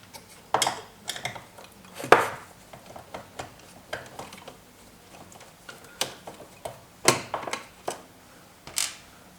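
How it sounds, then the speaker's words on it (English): Small screws being removed from a Taurus 20m transceiver, giving a series of light metallic ticks and clinks at irregular intervals, close and fairly quiet, with no talking. "I'll get those little screws out."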